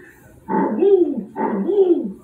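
A voice mimics a braying donkey with two rising-and-falling honking calls, close and fairly loud.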